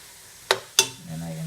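Seasoned food sizzling in a pot while it is stirred, with two sharp, close scraping clatters followed by a low bubbling hiss.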